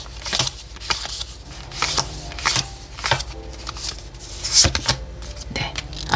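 Tarot cards being handled and drawn from the deck for a reversed Queen of Cups reading: a steady run of soft papery slides and light taps over several seconds, close up, with no one speaking.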